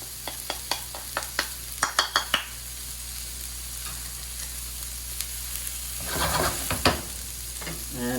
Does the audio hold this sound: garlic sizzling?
yes